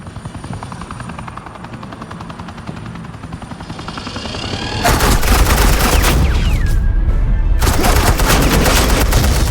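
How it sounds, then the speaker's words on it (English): Suppressing gunfire in the Batman Telltale Series game: a helicopter drones steadily at first, then loud sustained automatic fusillades burst in, with a short pause before another heavy volley. "suppressing fire."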